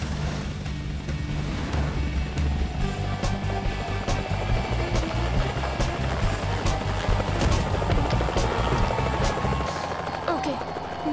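A helicopter's steady rotor and engine roar fills the scene continuously and loudly, with a dense low drone and chopping texture throughout.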